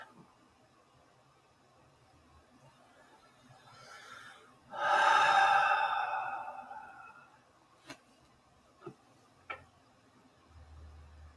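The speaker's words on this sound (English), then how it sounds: "But just breathe." A single deep breath during meditation, drawn in and released as a strong, close, slowly fading rush of air, followed by a few soft ticks and clicks in an otherwise quiet room.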